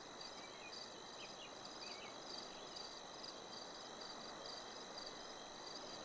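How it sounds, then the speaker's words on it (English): Crickets chirp steadily at night in the fantasy adventure game Quest for Glory 5, a continuous faint layered trill with overlapping insect calls and no voices. "I'm guessing the sound of the crickets means it is now past 6"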